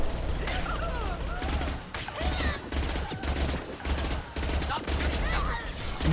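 Gunfire in Mass Effect 2, dense, continuous rapid shooting with repeated thumping impacts throughout, mixed with game effects and an occasional voice.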